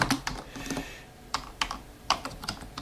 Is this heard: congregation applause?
no